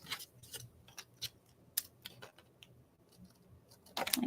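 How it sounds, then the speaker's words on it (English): Scissors snip through excess card in a craft demo, giving a series of sharp, close, irregular clicks and cuts with no talking. "I'm going to take my scissors because it's easier and just trim off"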